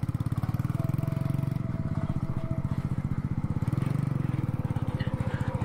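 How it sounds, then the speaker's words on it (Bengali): A motorcycle with fog lights idles close by, its engine thumping in a fast, even pulse that swells slightly in two surges, steady and fairly loud throughout. "মানে যে আছে না র একটা সাউন্ড বাইকের, সেম সাউন্ডটা দিতেছে।"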